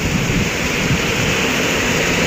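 Heavy morning rain in Malaysia, a dense unbroken roar of downpour, loud and steady with no voices.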